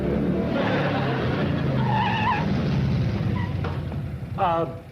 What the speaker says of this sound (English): Here comes that nut on the motorcycle.